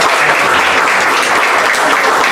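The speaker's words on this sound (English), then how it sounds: "Let's give them a big round of applause inside too" Audience at a Harbor Fest fashion show clapping steadily and loudly, a dense wash of applause filling the space without a break.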